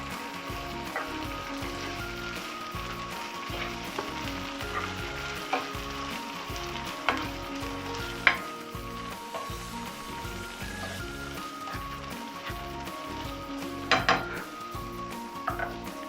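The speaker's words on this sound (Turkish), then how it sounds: "İçeri yine bir karıştırıyorum." Meat sauté frying in a pan with chili flakes, a continuous sizzle over repeated stirring strokes and occasional clinks of a utensil against the pan.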